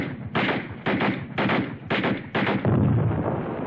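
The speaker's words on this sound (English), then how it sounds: "Automatic fire, heavy, no chance for the infantry to move." Heavy automatic gunfire from a 1965 war film rings out in loud, close, rapid bursts, roughly two per second, each a dense crackling blast.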